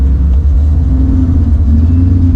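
Loud, close engine rumble comes from a 1969 Ford Mustang RTR-X idling and revving lightly with its exhaust closed, a deep steady drone with no speech over it.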